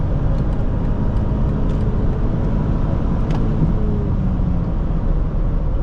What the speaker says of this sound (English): let's head out here and give it some gas